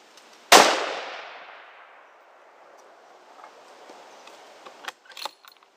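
A single loud rifle shot from a Ruger American Predator in 6.5 Creedmoor cracks at close range outdoors and rolls off into a long fading echo, followed by faint clicks and handling noises.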